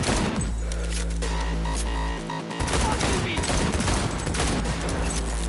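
Loud, dense bursts of rapid gunfire from the video game Cyberpunk 2077, sustained almost without pause, with a deep rumble under the shots and voices talking over the action.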